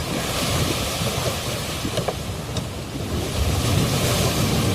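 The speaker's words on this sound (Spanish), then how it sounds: "se desató una tormenta tan fuerte que las olas se metían en la barca" Storm-driven waves crash against a small boat at sea, with steady rough surf and wind noise pressing loudly and continuously throughout, no voices present.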